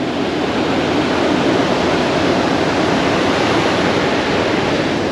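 Ocean waves wash steadily onto an Australian beach as the tide comes in, a loud, continuous roar of surf close by with no pauses and no voices.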